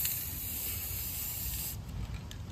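Airsoft parts are spray painted in one steady, close hiss of an aerosol can that runs for a couple of seconds and then tapers off.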